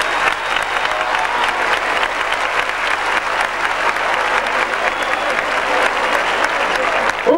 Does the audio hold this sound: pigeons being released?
no